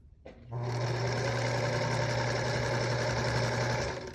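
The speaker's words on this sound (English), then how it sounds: "I'm just going to pick up my next set of squares and I'm going to sew them together." Sewing machine chain piecing quilt squares: after a brief click it runs at a steady, even whir with a constant motor hum for about three seconds, close and loud, then eases off at the end.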